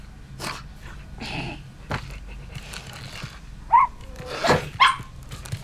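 A cartoon dog in an animation gives a few short barks and yelps, sparse and moderately loud, scattered among quieter soundtrack noises.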